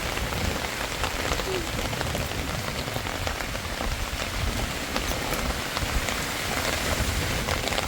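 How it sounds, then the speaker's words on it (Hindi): Heavy rain pours steadily and densely onto surfaces in a windy Himachal Pradesh mountain village, a constant hissing downpour with no voices. "बारिश अभी तेज हो चुकी है"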